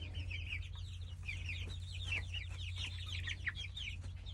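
Young Orpington chickens cluck and chirp in the back of a coop, a busy, overlapping run of calls over a steady low hum, moderately close and continuous, with no talking.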